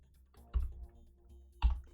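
Keystrokes on a computer keyboard while entering C# code, heard as two distinct clacking bursts separated by a quiet pause over a low background hum.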